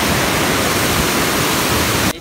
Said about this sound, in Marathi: इथे बांध आहे आणि हे पाणी असं खाली जाते.